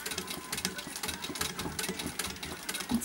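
A vintage treadle sewing machine runs steadily through satin stitch during free-motion embroidery, its needle chattering in a fast, even mechanical rhythm close by with a faint voice underneath.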